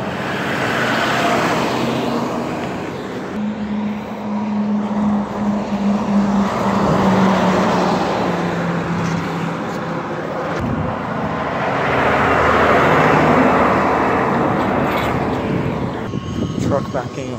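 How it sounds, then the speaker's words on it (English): A Republic trash truck backs up with a loud, steady engine drone and rumble that swells and eases over about seventeen seconds, close by and continuous. "Truck backing up."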